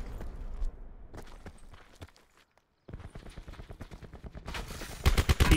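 Rapid automatic gunfire from a video game shooter, bursts of sharp shots in quick rhythm, pausing to near silence midway before heavy firing resumes and grows louder at the end.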